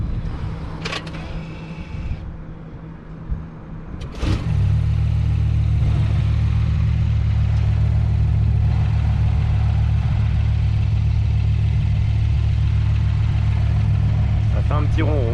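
BMW i8 hybrid settling into a steady, low idle hum just after starting, close and continuous, following a brief burst of louder start-up noise; a voice speaks briefly near the beginning.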